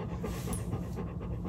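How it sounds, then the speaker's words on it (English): A dog panting close by, quick breathy rhythmic huffs, fairly faint over a dense background hum. "I have this super wonder dog with me"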